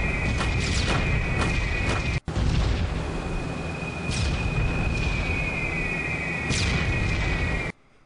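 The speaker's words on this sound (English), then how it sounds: "Bombs away." Bombs dropped from a B-17 bomber in the game B-17 The Mighty 8th, bursting as a dense rolling rumble of explosions under a constant droning engine tone, with several sharper blasts and a brief cut near the middle.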